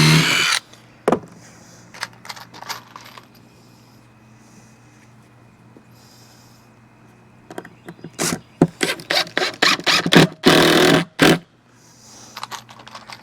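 Power drill driving 2-inch exterior screws into a wooden swarm trap, with brief bursts early on, then a run of loud, repeated short whirring spurts near the end.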